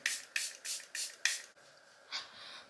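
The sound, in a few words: setting spray sprayed on face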